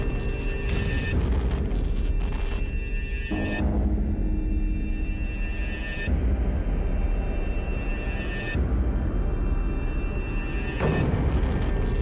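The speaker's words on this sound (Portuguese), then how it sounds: "A shotgun aqui nesse Silent Hill, a shotgun é uma 2 canos." In Silent Hill: Origins on PS2, a double-barrel shotgun fires several loud, booming blasts a few seconds apart over a dense, rumbling game soundscape. No one talks.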